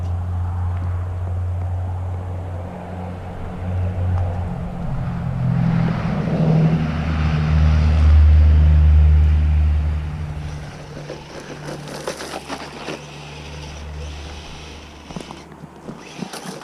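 A GPTOYS McGruff 926 RC truck drives at a distance, its electric motor giving a steady whirring drone that rises and falls over wind and outdoor rumble, without any talking.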